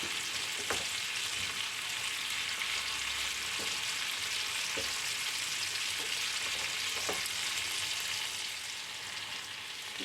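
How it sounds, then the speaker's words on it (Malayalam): Chicken pieces frying in a pan as the first step of a chicken curry give a steady, dense, close sizzle with a few faint clicks scattered through it. No one speaks. "ചിക്കൻ ഏകദേശമൊക്കെ ഒരു വശം ഒന്ന് ഫ്രൈ ആയി വന്നിട്ടുണ്ട്. നമുക്കൊന്ന് തിരിച്ചിട്ട് കൊടുക്കാം."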